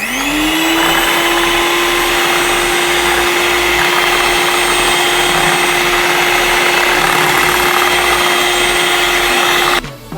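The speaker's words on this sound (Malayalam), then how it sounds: "ബീറ്റ് ചെയ്ത് കൊടുക്കാം." An electric beater whisks omelette egg mixture in a bowl, a steady loud motor whine with a constant pitch running alone for about ten seconds before cutting off at the end.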